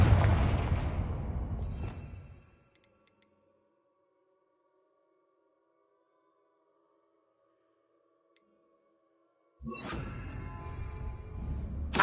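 Confringo blasting spell explosion in Hogwarts Legacy: a loud burst that decays over about two seconds, then near silence with a faint lingering tone before another loud blast near the end.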